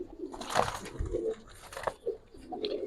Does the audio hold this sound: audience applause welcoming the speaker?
no